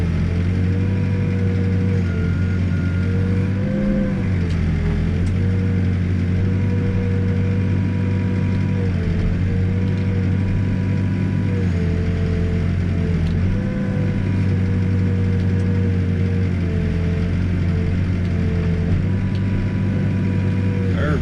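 A backhoe digging footings in rocky ground runs its diesel engine steadily and loudly and close by, with a constant low drone and slight revving swells and faint mechanical clanks throughout.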